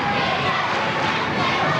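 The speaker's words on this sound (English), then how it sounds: "Crowd on its feet behind the bleachers at Washington Township" A high school basketball crowd stands and roars in the bleachers at Washington Township in 1999, a dense, steady wall of cheering and shouting voices filling the gym for the whole moment.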